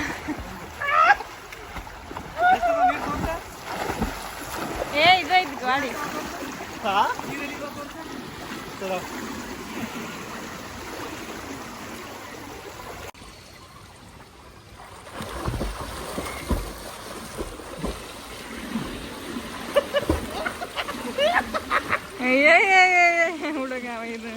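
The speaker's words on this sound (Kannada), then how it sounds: "ಇಲ್ಲಿ ಇಲ್ಲಿ ನೀರು ಬೀಳಾಕತ್ತ" Water splashes and sloshes around people wading into a stream or pond during a playful outing, mixed with wind buffeting the microphone and lively voices talking and calling out.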